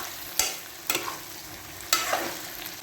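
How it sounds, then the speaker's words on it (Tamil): Potatoes frying in a pan for a potato and eggplant stir-fry, with a spatula stirring and scraping in three distinct strokes over a soft, steady sizzle; close and fairly quiet, no talking. "உருளைக்கிழங்கு வந்து கிண்டிக்கிட்டே இருக்கணும்"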